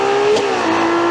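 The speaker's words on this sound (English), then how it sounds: "I'm just playing the engine like a musical instrument." Ferrari V12 hypercar engine revving loud and close, a steady high howl that climbs and briefly dips before settling into a sustained sharp note.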